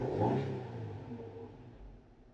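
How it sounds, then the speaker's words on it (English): A 3.6 eTorque engine revs briefly on the driveway; the engine rises and then settles, a moderate, fading rumble heard alone. "I'm just going to give it a few revs to help push some of those air pockets out"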